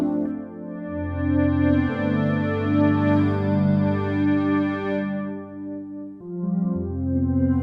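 Kawai K3 hybrid synthesizer playing dark, PPG-like tones: sustained layered chords with a buzzy, harmonically rich character, held and shifting over several seconds, loud and alone with no voices.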